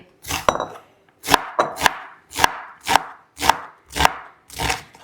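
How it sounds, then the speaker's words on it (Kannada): Chillies chopped with a knife on a board for bajji, a steady series of about eight firm, close chops spaced roughly half a second apart, each with a woody thud and crisp attack. "ಫುಲ್ ಎಣ್ಣೆ ಕಟ್ ಮಾಡ್ತಾವ್ರು ನೋಡಿ ಚರಕ್ ಚರಕ್ ಅಂತ"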